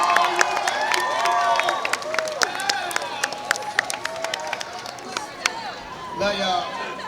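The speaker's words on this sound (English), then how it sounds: "give a big round of applause to these guys" A crowd at a Comikaze 2015 convention panel applauds and cheers, with sharp claps and whoops over a steady roar while voices talk through it.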